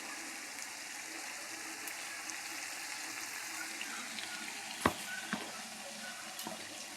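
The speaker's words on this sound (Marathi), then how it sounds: "थोडंसं पाणी घालून घ्यायचं आहे आपण" A little water is added to stuffed green brinjal in an oily masala, giving a faint, steady hissing wash broken by a couple of sharp clicks near the end.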